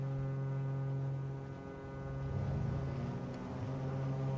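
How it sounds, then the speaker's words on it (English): Both piston engines of a Beechcraft Baron G58 in Flight Simulator 2020 drone in a steady, even hum, rising slightly in pitch and loudness midway as the second engine joins, with no talk. "As you can see both engines are running"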